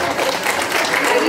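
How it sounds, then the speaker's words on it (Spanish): Applause from guests at a quinceañera party, a dense steady patter of clapping filling the short moment without a break. "Aplausos, por favor,"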